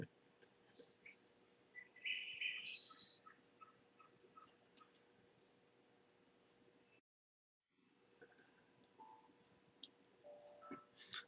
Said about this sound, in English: what's Bird's song like?